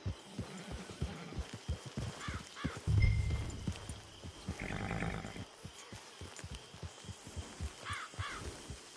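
A horse in the Red Dead Redemption 2 video game clip-clops along in a steady, even rhythm of close hoofbeats, with a brief heavier thud and snort partway through and bird calls in the background.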